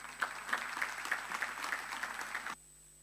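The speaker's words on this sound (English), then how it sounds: "request you to applaud the panelists" A conference audience applauds the panelists at a financial inclusion policy forum, a few seconds of moderate, fairly sparse clapping with distinct individual claps that cuts off sharply, leaving a faint steady hum.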